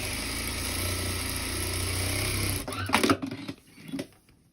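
Sewing machine topstitching a seam on a cloth doll, a steady close whirring run that stops partway through, followed by a few clicks and handling knocks.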